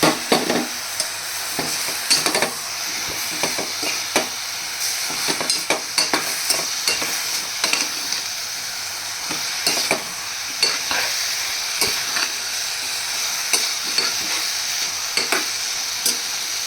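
Potatoes frying in a pan for a puri curry, a steady close sizzle broken by repeated scraping clicks of a spatula stirring them around, with no voices.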